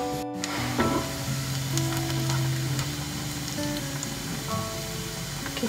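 Chopped onion and a clove of garlic sauté in a pan for homemade baby food, a steady close sizzle and crackle broken by occasional scraping from stirring.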